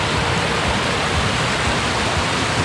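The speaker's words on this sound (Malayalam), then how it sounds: "വെള്ളം ആ കല്ലുകൾക്കിടയിലൂടെ കുത്തിടിച്ച് പോകുന്ന നല്ല രസമുണ്ട്" Clear stream water rushes between rocks near a waterfall on a trip toward Munnar, a dense, steady hiss and roar heard close and unbroken.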